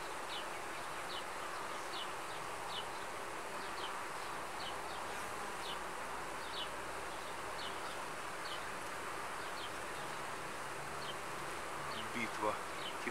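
Bees buzzing outdoors as they swarm and attack a stag beetle, a continuous low insect drone with repeated faint rhythmic ticks and a brief louder flurry near the end.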